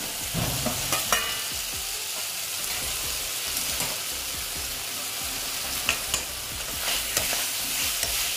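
Fried potatoes being stirred and sautéed into egg curry masala in a pan, repeated spatula scrapes and taps over a continuous close sizzle, steady throughout with no voices.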